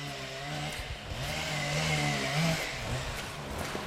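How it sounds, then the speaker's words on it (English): Chainsaws cut timber in a forest, their engines droning steadily and rising and falling in pitch as they bite into the wood, a continuous buzzing whine at moderate distance. "those chainsaws mean I'm heading in the right direction"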